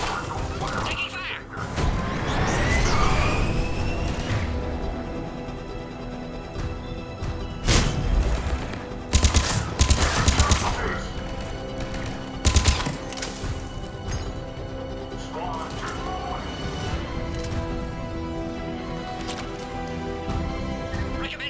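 Gunfire cracks through a firefight in Mass Effect 3, sharp bursts of shots at intervals amid game noise, with characters talking over the action.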